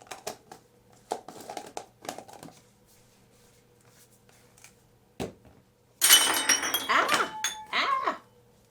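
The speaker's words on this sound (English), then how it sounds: "Dropping things on the floor" Things dropped on a floor while sugar scrubs are being packed into lidded jars: scattered clinks and knocks, one sharp thud, then a loud burst of rattling and clattering, with quiet gaps between.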